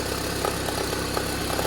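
Idling Toyota Harrier 5S-FE engine with a faint crackling knock: a constant close engine hum carrying soft irregular ticks, no speech over it.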